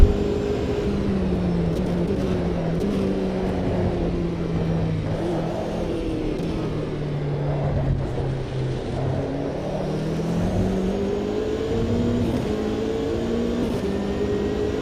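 Race car in Automobilista 2 on a solo qualifying lap, its engine droning steadily and sweeping up and down in pitch through the gears, close and continuous with no other sounds.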